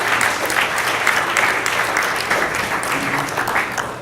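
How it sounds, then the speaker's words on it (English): Sustained applause from an audience at a Startup Tech Valley tech meetup, a dense, steady wash of many hands clapping that runs loudly through the whole moment with no voices standing out. "But round of applause, great."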